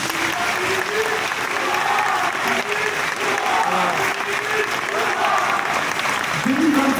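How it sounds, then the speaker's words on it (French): An audience at the Walibi amusement park applauds the park staff, sustained clapping that fills the stretch evenly, with a few voices faintly audible underneath. "Je pense qu'on peut encore les applaudir."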